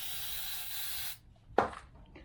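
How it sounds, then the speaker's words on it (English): Brake cleaner sprays steadily onto a towel during rear brake pad and rotor work on a 2014-2019 Toyota Corolla, a continuous close hiss lasting about a second, then a short sharp spurt. "For the inboard side, we spray the towel."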